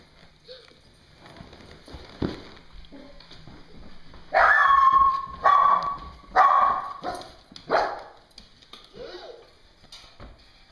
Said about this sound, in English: She got a big dog!